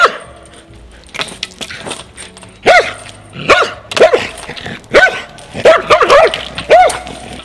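A mixed-breed dog, aggressive and traumatized after being beaten with a stick, barks repeatedly in loud, sharp, irregular bursts. The barking is close and builds in intensity toward the end, with no talk over it.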